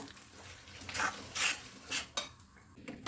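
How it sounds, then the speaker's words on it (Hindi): Ghee melting in a pan is stirred with a utensil, giving a few soft scraping clinks against the metal in irregular strokes, close and fairly quiet, with no talk. "इसको पूरे इसको अच्छे से चलाते हुए हमें पिघालना है।"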